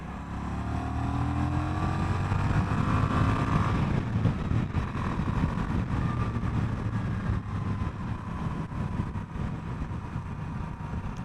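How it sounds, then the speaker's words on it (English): Honda Rebel 1100 motorcycle engine drones steadily on a test ride, loud and close with continuous road and wind rush and shifting revs, no talking. "I'm very impressed with the motorcycle."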